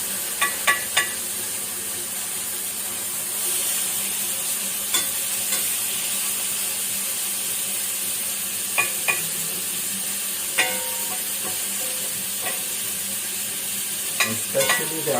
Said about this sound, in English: the onion is getting grilled with the fat from the meat